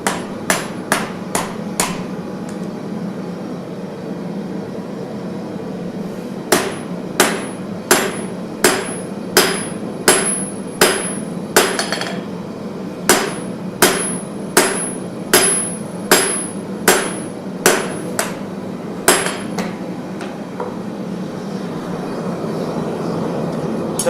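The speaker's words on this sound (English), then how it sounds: "I'm just hammering, and we're gonna see what happens." Hammer striking a hot knife blade at the forge, sharp ringing blows in steady runs: a few quick strikes, a pause, then a long rhythmic series over a constant background roar.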